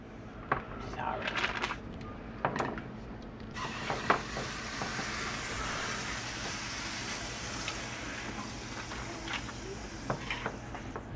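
A buffalo chicken jalapeño popper grilled cheese sandwich fries in butter in a pan, with a few scrapes and clicks early on, then a steady, close hiss of sizzling that runs to the end.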